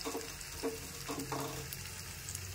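Spices temper in hot fat, likely ghee, for a spicy potato fry, a quiet, steady sizzle with a few soft stirring scrapes and clinks spaced through it, close and alone without talk.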